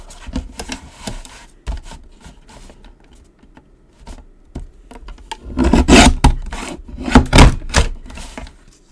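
A handmade card's edge gets trimmed, giving close, dry rasping and rubbing strokes in irregular bursts that grow louder and denser toward the end.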